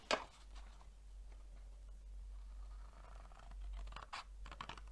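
Scissors snip and scratch along a score line on a handmade craft gift box, with soft scraping cuts close up, a sharp cut at the start and quicker snips near the end, over a low hum.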